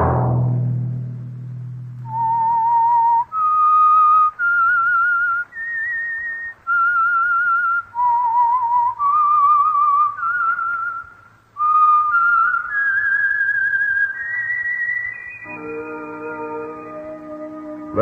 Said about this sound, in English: Let that whistle be your signal for the Whistler